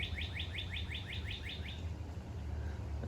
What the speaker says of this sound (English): That's a cardinal over there being all loud.